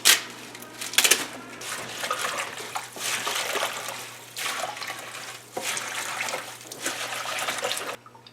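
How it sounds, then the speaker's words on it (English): Tap water pouring into a kitchen sink to soak vegetables, a steady splashing rush that swells and dips over several seconds, close by, then cuts off at the end. "I'm gonna get them all in the sink here, and then I'll fill it up with water"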